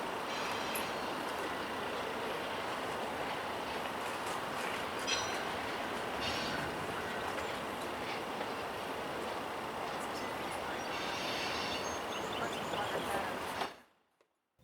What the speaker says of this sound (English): the train passes overhead